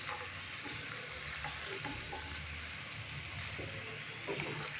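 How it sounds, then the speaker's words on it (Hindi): Crispy pasta snacks deep-frying in oil over a medium-low flame, a steady dense sizzle and bubbling that runs unbroken and fairly close throughout, with faint scattered clicks of a utensil. "पास्ता स्नैक्स को हमने तकरीबन मीडियम से लो फ्लेम पे 3 से 4 मिनट अच्छे से फ्राई कर लिया है।"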